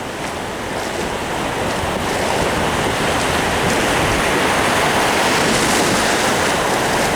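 Ocean surf at La Jolla beach in California roars steadily and loudly, a broad continuous wash of breaking waves with wind buffeting the microphone.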